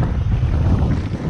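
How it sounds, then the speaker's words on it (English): Wind buffets the microphone during an OMPHOBBY M5 RC helicopter flight with a low, continuous rumbling roar that fluctuates slightly throughout. "There's the wind."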